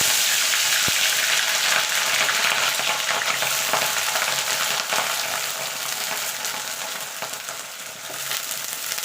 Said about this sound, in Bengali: তেলটা গরম হয়ে গেছে। ফুলকপিটা আগে প্রথমে আমি ভেজে নেব।